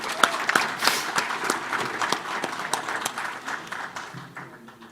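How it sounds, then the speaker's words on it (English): A room full of people applauding at a mosque fundraiser, steady scattered clapping that holds for several seconds before gradually thinning out and fading. "Let's give them a round of applause,"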